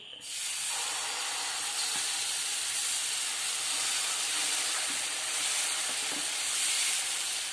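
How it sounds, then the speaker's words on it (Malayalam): Dosa batter made from Amrutham powder is poured onto a hot, lightly oiled pan and gives off a loud, steady hiss that fills the whole stretch, with no one speaking. "മാവ് ഒഴിച്ചു കൊടുക്കാം പാനിലേക്ക്"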